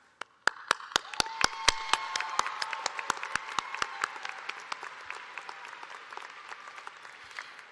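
Graduation audience at a college commencement applauding, with steady crowd clapping punctuated by sharp, prominent individual claps close by, continuing throughout and slowly thinning toward the end.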